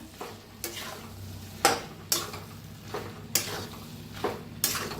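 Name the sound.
stirring cauliflower and potato curry with coriander in a pan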